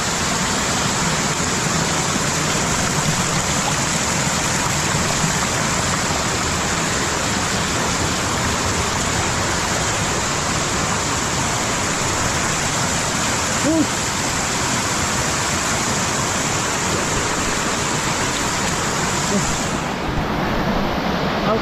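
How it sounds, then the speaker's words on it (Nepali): A stream rushes near a waterfall at Sankhay Dhunga in Chamong, a loud, steady, broadband roar of water filling the whole scene without a break, easing slightly just before the end. "खोला कराको आवाज चाहिँ आइरहेको होला है तपाईँहरूलाई पनि।"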